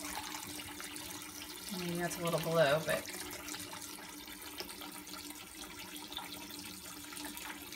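Water is poured out of a small test vial in a short splash lasting about a second, faint and close, under a person talking quietly.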